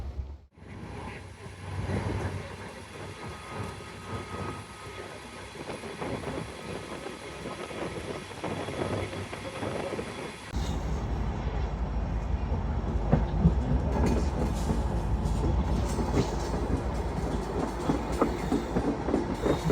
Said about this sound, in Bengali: আমাদের বেনাপোল অভিমুখী রূপসী বাংলা এক্সপ্রেস ট্রেনটি এখন ভাঙা জংশন রেল স্টেশন ছেড়ে যাচ্ছে